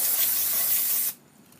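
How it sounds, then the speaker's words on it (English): A close, loud can of carburetor cleaner hisses steadily for about a second as it is sprayed on a Briggs and Stratton engine, then cuts off abruptly into quiet. "if you just want to spray the whole thing down"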